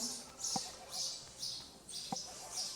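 Birds chirp repeatedly in short bright calls over a steady outdoor hiss heard from a balcony, with no talking, the calls recurring every half second or so.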